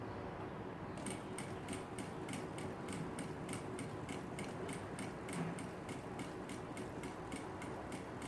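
A sewing machine stitching fabric slowly, with a steady, even ticking rhythm of needle strokes over a low mechanical hum, faint and alone.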